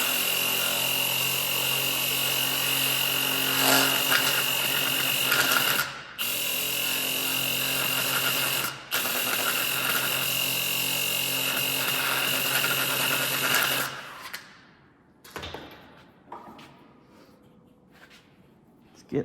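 A power sander with an 80-grit disc grinds loudly and steadily with a high whine for several seconds, pausing briefly twice, then cuts out, leaving scattered quieter clatter.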